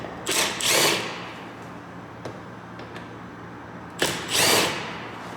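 A power tool, likely a drill or impact driver, spins out door panel bolts on a GMC Sierra 1500, running in two short bursts near the start and end with a few faint clicks between.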